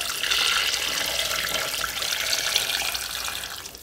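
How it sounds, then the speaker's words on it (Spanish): Chicken broth poured steadily into a blender for mole colorado, a continuous close splashing rush of liquid lasting the whole moment without pause. "Van a agregar el caldo de pollo."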